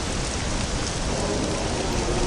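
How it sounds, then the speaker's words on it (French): Steady, dense acid rain pours in the Star Wars game Jedi Academy, a constant close hiss of falling water with no breaks, heard alone for the whole moment. "Ah non, cette pluie est acide."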